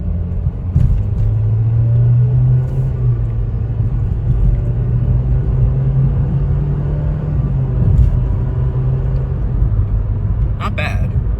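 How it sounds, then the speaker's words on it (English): Inside a 2021 Nissan Versa sedan with a CVT, the engine drones in sport mode during acceleration, a low steady rumble that holds a nearly constant pitch, with road noise and a few faint clicks. "Acceleration pass and in sport mode."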